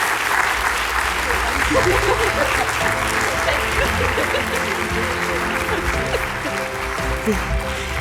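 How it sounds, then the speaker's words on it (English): Loud, sustained audience applause for a speaker at a talk, a dense continuous wash of clapping with a steady background tone beneath it and faint voices mixed in. "please, again, give her a round of applause for coming here and for inspiring all of us"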